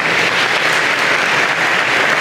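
Loud, sustained applause from a large audience at an engineering and computer science college convocation, a thick continuous roar of clapping throughout.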